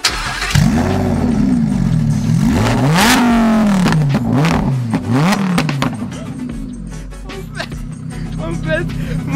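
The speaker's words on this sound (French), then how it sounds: "En fait mon pote Jason, il a déjà changé cet échappement." A Lamborghini Huracan with an aftermarket exhaust revs hard several times, loud and close, pitch swooping up and down in sharp blips before settling into a steady idle.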